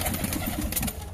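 A pigeon, one of the Madras and Giribaz breeds kept for sale, coos softly in short rhythmic pulses against a noisy, rumbling background.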